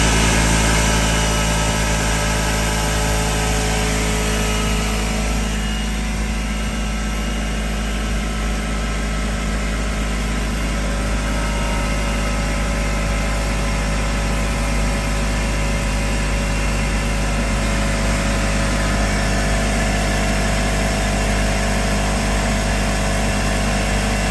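An air compressor powered from a portable power station runs continuously with a loud, steady motor drone and hum. It shifts slightly in tone partway through but never stops, with no talking.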